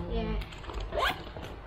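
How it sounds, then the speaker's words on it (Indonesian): Zipper on a Polo-brand sling bag runs in one quick rising zip near the middle, close and crisp, with a person talking softly just before it. "Di belakangnya lagi ada resleting seperti yang di depan tadi."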